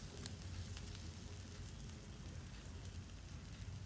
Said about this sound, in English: And now on medium flame we will saute them until they turn translucent and aromatic